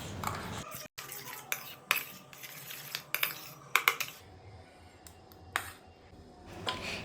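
A mushroom soup base paste is whisked in a bowl. Quiet, irregular clinks and taps of a utensil against the bowl come in uneven bursts over a faint background, with no talking.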